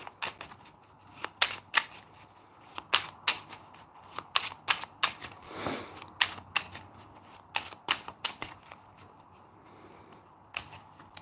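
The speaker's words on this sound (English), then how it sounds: "I have to put them back and shuffle again" Close-up tarot cards are shuffled in bursts of sharp, crisp flicks and snaps, with quiet pauses between rounds.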